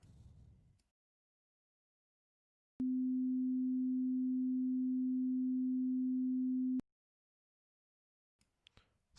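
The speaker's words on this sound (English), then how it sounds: "So this is middle C." A pure, steady sine test tone at the pitch of middle C starts abruptly, holds at an even level for about four seconds and cuts off sharply, with a faint room sound before and after.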